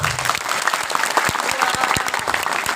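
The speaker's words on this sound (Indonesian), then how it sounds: "Tepuk tangan untuk madrasah Mambaul Hikmah." A crowd claps enthusiastically at a large religious gathering, dense applause with scattered louder claps throughout, close and sustained.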